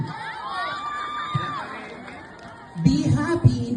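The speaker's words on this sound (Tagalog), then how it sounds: "Ang pumalakpak na may kasamang sigawan" Crowd at a Miss Gay 2024 barangay pageant shouting and whooping, lively and sustained, with a louder burst of cheering and clapping-like noise toward the end.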